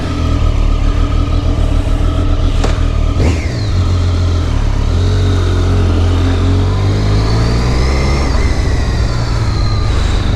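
A motorcycle without plates, modified for Californian registration, rides along the road with a steady, loud engine drone, rising and falling with revs and throttle changes throughout.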